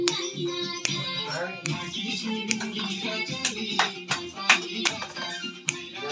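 At a Nepali wedding celebration, guests clap in uneven bursts of sharp hand claps, some loud and some scattered, over a busy background of chatter and voices.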